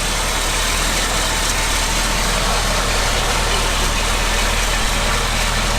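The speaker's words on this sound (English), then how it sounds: "I've never heard such a quiet engine from under the engine bay." A Chevrolet C20 engine idling steadily up close under the hood, a constant low hum and vibration with no changes in pace and no voices.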